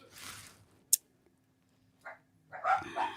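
Dogs bark indoors at a distance, a few short separate yips and woofs spaced over a few seconds, with quiet pauses between and a brief sharp click partway through.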